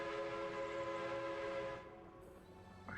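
Sustained tonal train horn in the video game MegaCity 19, a steady loud chord-like blast held for nearly two seconds before cutting off, leaving quieter rumbling behind.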